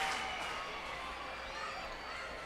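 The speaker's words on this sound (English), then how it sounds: "Crowd gets excited." Baseball crowd at a minor league game between the Somerset Patriots and Reading Fightin Phils, a steady broad roar of excited fans building during an at-bat, continuous and moderately loud throughout.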